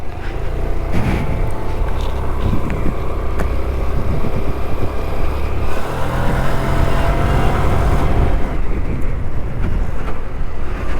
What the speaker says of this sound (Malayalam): typical access acceleration